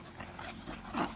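American Bully dogs whimper and whine softly in a steady run of thin, nasal cries, close by, with no talking over them.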